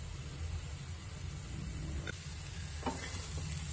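Garlic fenugreek potatoes stirred and roasted in a pan, a steady soft sizzle with occasional scraping strokes of a spoon, close and quiet throughout.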